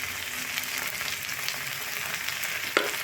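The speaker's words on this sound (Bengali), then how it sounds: "এখন গ্যাসের আঁচটা আমি একটু হাই করে দেব, দেখতে একটু ভাজা ভাজা করে নেব।" Fish frying in mustard oil over a high gas flame, a steady loud hiss and crackle of sizzling with a few sharper pops and a brief clink near the end.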